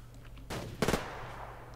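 A short burst of automatic gunfire in the video game Survarium, a quick rattle of several shots at moderate distance following a soft thump, over low ambient game noise.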